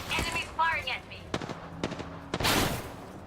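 Bursts of gunfire in a battle royale game crack out in several sharp separate shots and short volleys, mixed with speech and game voice lines.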